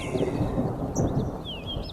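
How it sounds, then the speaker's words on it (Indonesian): Thunder rumbles low and steadily through overcast skies on a mountain hiking trail to a campsite in Lembang, with a few faint bird chirps high above the rumble. "suara petir bergemuruh di awan, menandakan sepertinya akan turun hujan yang cukup besar"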